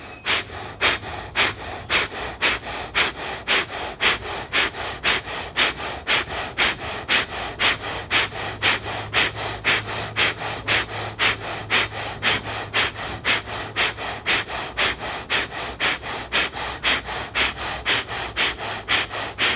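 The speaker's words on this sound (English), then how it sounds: "breath of fire." Rapid, forceful breath-of-fire yoga breathing during a high-intensity power yoga flow: steady rhythmic nasal exhalations pumping about three times per second, close and loud, continuing without pause and with no speech.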